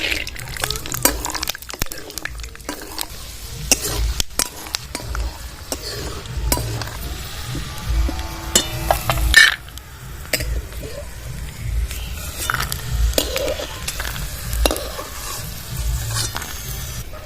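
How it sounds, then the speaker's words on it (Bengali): Peanuts frying in mustard oil in a wok, a steady low sizzle with frequent scraping and stirring clatter from a utensil against the pan, continuous through the stretch. "কড়াইতে সর্ষের তেল দিয়ে দিলাম আবারও এবার বাদাম কটা নিয়েছি এবার ভেজে নেবো"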